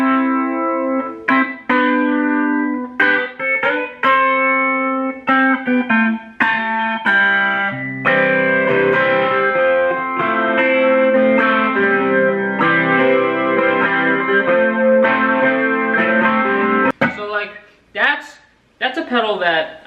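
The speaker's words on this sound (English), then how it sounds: "now one of these pedals here is called the flanger." Electric guitar played through a flanger effect pedal, a run of picked notes and sustained chords with a sweeping, swirling distorted tone, loud and close, with brief pauses and a short burst of harsher notes near the end.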